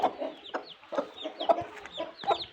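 Chickens cluck close by in short, repeated calls, overlapping with soft rustling around the coop, with no voices.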